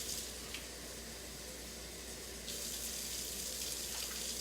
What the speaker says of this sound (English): Just gonna get some water in here.